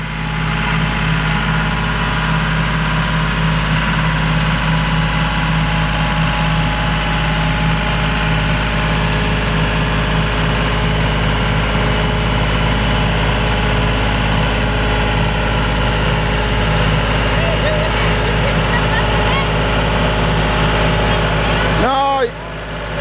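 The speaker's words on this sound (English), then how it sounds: "we got Cheryl on the tractor" A tractor engine runs steadily while baling hay on a field, a loud continuous drone with a low hum that holds unchanged for over twenty seconds before a brief shift at the end.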